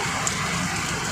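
Unseasonal rain pours down at a farmers' market in Khamgaon, a steady broadband hiss of falling water that is even and continuous throughout the short moment, with no voices.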